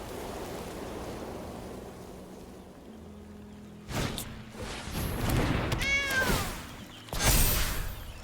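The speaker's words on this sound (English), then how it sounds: "I'm going to have to murder that cat." Cat letting out a drawn-out, wavering meow partway through, near and fairly loud, between bursts of rushing noise over a soft background hiss.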